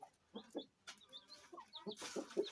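Chicks and hens clucking and cheeping in short bursts close by, with brief pauses between calls and a busier flurry near the end.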